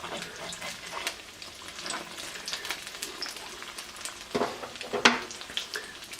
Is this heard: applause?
no